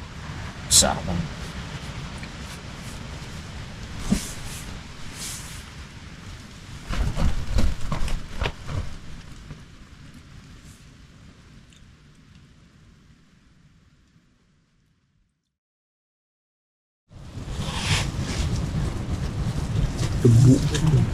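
Strong storm wind roars at a mountain camp, a loud, continuous, gusting rush under intermittent talking. It breaks off into a brief silence before returning just as strong.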